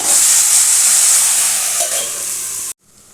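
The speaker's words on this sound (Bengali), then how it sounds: "এবার এটাকে একটু নাড়াচাড়া করবো।" Mixed vegetables cooked Bengali style sizzle loudly in a pan while being stirred, a bright, hissing fry with scraping movement that cuts off abruptly near the end.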